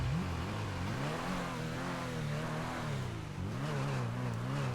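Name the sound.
car engine noise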